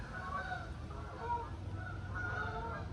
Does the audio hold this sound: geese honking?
yes